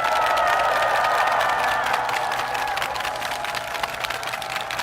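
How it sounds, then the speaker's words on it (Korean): A large crowd at a political rally in Gwanak cheers and applauds, with clapping and shouting blended into a roaring, steady wash that slowly fades a little over several seconds. "큰 박수로 격려 부탁드립니다."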